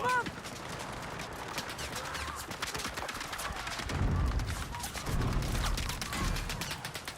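Rapid bursts of video game gunfire in a chaotic multiplayer battle, overlapping shots and clattering mechanisms at mid distance, mixed under ongoing voice chat and game noise.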